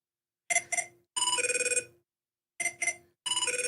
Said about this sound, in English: It just sounds like any ring.